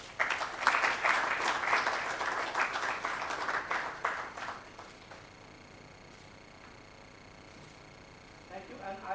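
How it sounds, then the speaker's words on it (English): Applause for team members called on stage at a corporate global conference vote of thanks in Mumbai, a dense burst of clapping that fades out over several seconds, leaving near quiet before a faint voice. "A big round of applause"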